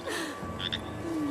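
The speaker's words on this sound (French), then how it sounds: "il y a une petite grenouille trop mignonne" A tiny, very small frog croaks outdoors near some branches, a few short croaks and trills close by over faint ambient background, with no speech.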